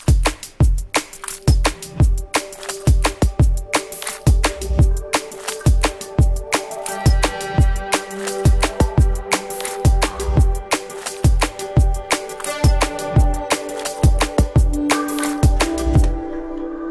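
A drum and bass track plays with its bass stripped out, leaving fast, punchy, evenly driving drum hits under a layer of sustained synth tones, loud and continuous with no voices.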